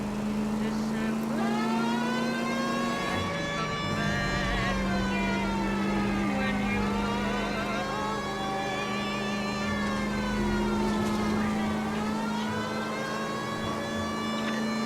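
A police car siren in the video game L.A. Noire wails steadily, its pitch gliding slowly up and down over a continuous engine drone, loud and sustained throughout.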